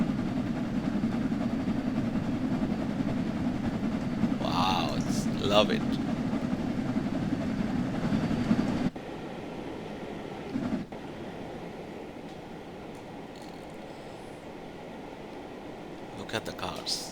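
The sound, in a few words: LMS Class 6P steam locomotive engine in video game Train Sim World 4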